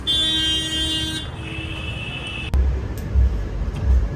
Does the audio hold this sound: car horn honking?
yes